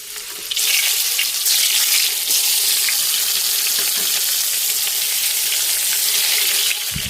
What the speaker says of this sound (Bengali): আমি মহারানী বেগুনগুলোকে এক এক করে লাল লাল করে ভেজে নেব।